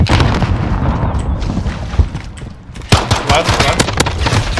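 Gunfire in the video game Modern Warfare: a dense stretch of rapid shots and booming impacts, briefly thinning before another loud cluster of sharp reports.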